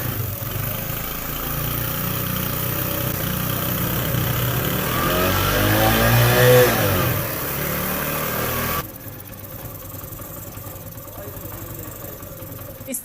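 A motorbike engine runs with the ignition switched on during an electrical fault repair, a steady mid-pitched drone that swells briefly and then drops abruptly to a quieter hum partway through.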